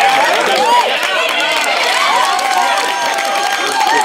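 An audience at an improv comedy show roars with steady, loud cheering and crowd noise, dense and continuous throughout with excited voices mixed in.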